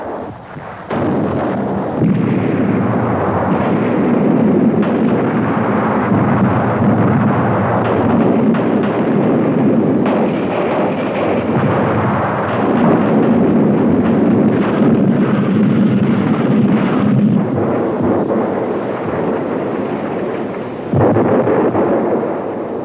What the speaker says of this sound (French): 900 canons tirent pendant 100 heures sur un front de 12 km.